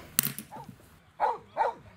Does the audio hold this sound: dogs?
yes